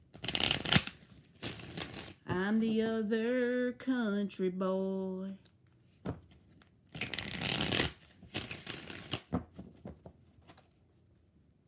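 Tarot cards being shuffled in bursts of crisp riffling, with a sung phrase and spoken remarks between the shuffles.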